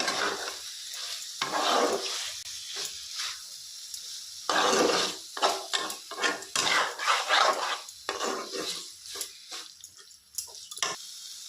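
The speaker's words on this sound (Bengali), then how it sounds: "খুব ভালোভাবে আমি আরেকটু চিকেনের সাথে কষিয়ে নেব।" Chicken pieces being sautéed in a pan with ginger paste for a homemade chicken bharta, loud sizzling and frying broken by repeated scraping stirs and clinks of the spoon against the pan, close and continuous with no talking.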